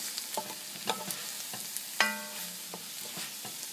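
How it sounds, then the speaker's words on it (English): Sweated-down vegetables stirred in a pan for a Mexican lasagna, with a handful of soft scraping clicks of a utensil against the pan over a faint sizzle, the sharpest scrape about halfway through. "Give them a little stir."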